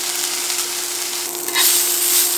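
Onions frying in a pan for game day sandwiches give a steady, loud, close sizzle and hiss that swells briefly louder partway through, with no talking.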